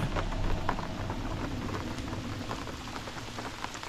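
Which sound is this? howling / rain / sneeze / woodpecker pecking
rain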